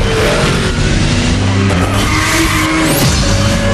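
A car in the Need for Speed Shift racing game drifts with loud, continuous tire squeal over a roaring engine, sustained and close throughout with shifting pitch as the slide goes on.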